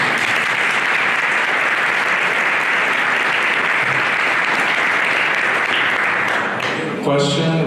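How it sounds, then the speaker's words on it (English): An audience claps after a technical talk, a full, sustained round of applause from a room of listeners that runs loud and even before breaking off, with a voice starting to speak at the end. "Can we first give Leo a round of applause?"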